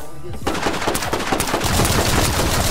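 Laser pistol gunfire in the Roblox game Rust (Trident Survival), rapid loud shots in dense bursts that swell into a continuous barrage, with faint voices underneath.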